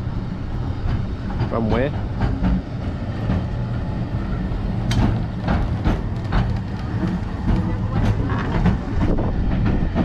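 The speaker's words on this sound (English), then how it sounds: "Here comes a tram." A tram running along a street in Llandudno, near the Great Orme, rolls past with a steady rumble and rail clatter amid street noise, while people talk over it.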